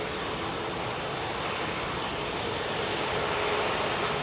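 Airbus A380 jet engines at London Heathrow make a broad, steady roar that fills the air evenly for several seconds, loud and unbroken with no voices over it.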